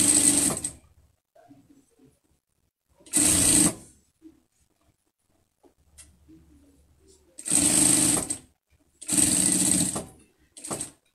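Sewing machine stitching a fabric pet mask, running in several loud bursts of a few seconds each, separated by quiet pauses with faint handling sounds.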